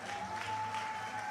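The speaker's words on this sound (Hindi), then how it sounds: "आप तो जोर से तालियां बजाने, हमारे माता बहनों ने।" Crowd applause at an outdoor election rally in Rajasthan, a brief, faint, steady wash of distant clapping with a thin electronic hum running through it.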